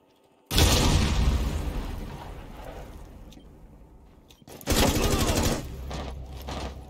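Gunfire in Rainbow Six Siege, a loud sustained burst starting abruptly then tapering, followed by a second sharp loud burst after a brief lull, with no talk over it.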